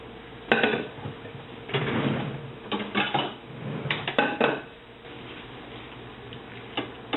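Fettuccine alfredo moved from a pan onto a plate, heard as scattered clinks and scrapes of a utensil against cookware and crockery in uneven bursts, close and fairly quiet, with no talking.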